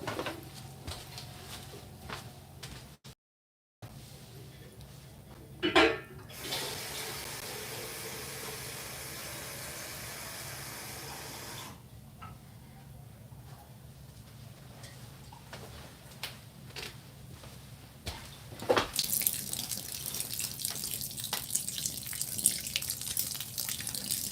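Tap water runs into a container to refill for potting a large ficus. A steady rush of flow lasts several seconds, then stops, amid scattered nearby clatter and handling noises.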